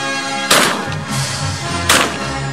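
Gunshots while hunting, two sharp loud reports about a second and a half apart over steady background noise, each ringing out briefly.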